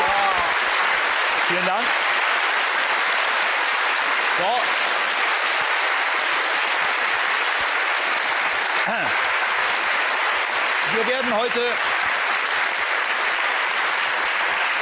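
A German TV quiz show's studio audience applauds for its 250th anniversary episode, steady and dense throughout, with a host speaking briefly over it.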